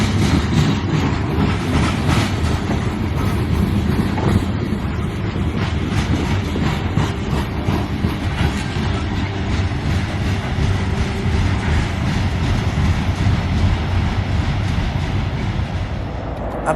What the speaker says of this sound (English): I believe this train was CN A431, a train going from Memphis, Tennessee to Decatur, Illinois.